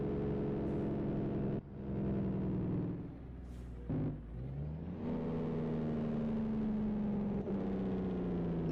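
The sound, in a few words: Kenworth T2000 truck jake brake in American Truck Simulator video game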